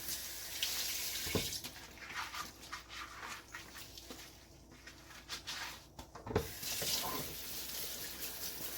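Hot water runs steadily from a tap while an RC X-Maxx truck is washed with soap, a constant splashing rush with occasional louder bursts and a dog whimpering faintly nearby.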